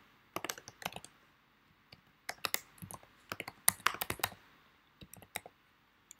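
Name and email being typed on a computer keyboard to register on a website: irregular bursts of close, crisp key clicks with short pauses between, no voices.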